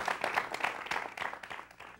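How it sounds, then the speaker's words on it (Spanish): Audience applause for comedian Pablo Cedeño at a comedy show, a short steady burst of clapping from a crowd without talk. "vamos a darle un aplauso a Pablito."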